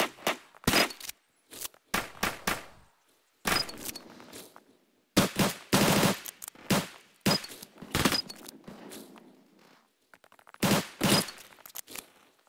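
Gunfire in the video game CS:GO, including a Glock: sharp, loud bursts of rapid shots in several clusters, some single cracks and short volleys, split by brief quiet gaps, with no talking.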